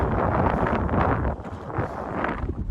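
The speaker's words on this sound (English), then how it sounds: "It's like super windy today." Strong wind of about 30 to 40 mph at Joshua Tree buffets the microphone in loud, rumbling gusts that surge and briefly ease.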